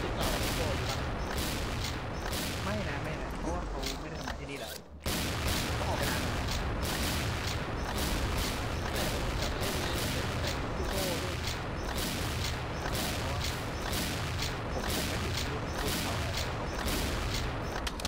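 Dense, continuous volleys of gunfire in a Thai XSHOT online shooting match among friends, loud and rapid throughout with a brief dropout near five seconds, while players talk over the shooting.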